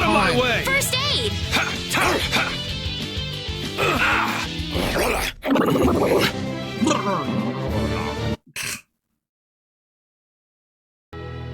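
A person playing a game with friends imitates dog barking, giving yips, bow-wows and whimpers amid excited overlapping voices and game effects, before the sound briefly cuts out near the end.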